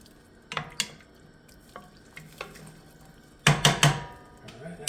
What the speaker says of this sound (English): And get that mixed up really nice, because it's going to take on all the flavors from the kielbasa and the onions.